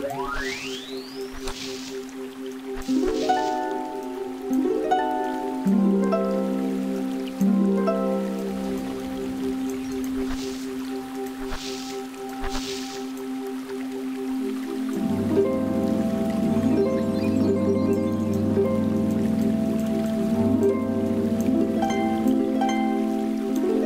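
Shimmering waterfall ambience from the Sword & Sworcery video game, a steady watery wash blended with plucked, string-like musical tones that ripple and cascade throughout, growing fuller and louder in the second half.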